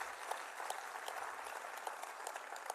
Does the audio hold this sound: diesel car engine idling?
no